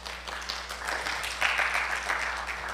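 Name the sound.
congregation applause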